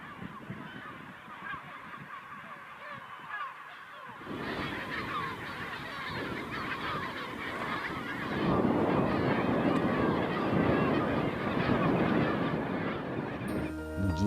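A big flock of wild birds, goose-like and honking, calls continuously at a feeding reserve in San Blas, the chorus thickening midway and swelling louder toward the end, with some wind noise.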